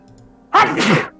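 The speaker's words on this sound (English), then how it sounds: "I'm fighting a sneeze." A single sneeze bursts out suddenly at close range after a quiet moment during a tabletop role-play session, loud and brief.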